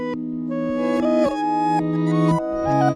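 Layered reversed electric guitar parts, dry with no effects, swelling in sustained chords that shift every second or so, loud and close with no voices.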